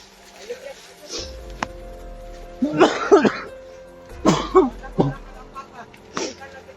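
A few sharp coughs and throat-clearing bursts from a video game in two clusters, fairly close, over a quiet electronic background hum.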